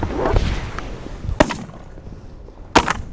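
Two sharp, loud shotgun blasts go off about a second and a half apart during a dry field duck hunt, each followed by a brief echoing tail.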